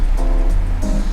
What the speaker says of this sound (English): the water is choppy. Pretty windy out here.